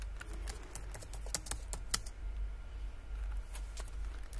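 Computer keyboard typing with presses of the tab key, a close run of sharp, irregular key clicks with a few louder taps, no talking.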